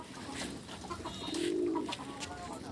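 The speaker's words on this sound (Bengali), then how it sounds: "এগুলো কিন্তু সব নর পায়রা" Male pigeons cooing in a loft, a low, soft, rolling coo swelling near the middle over steady background hiss and scattered chirps, with no talk.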